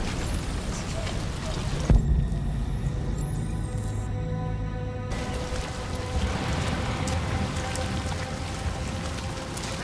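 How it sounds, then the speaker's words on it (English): Rain in the video game Detroit: Become Human, a steady wash of falling rain heard throughout with game ambience and a sharp impact near the start. "It's just worse than it looks because it's fucking raining."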